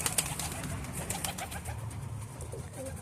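Soft, low cooing from a stout pigeon amid outdoor background noise and scattered faint clicks.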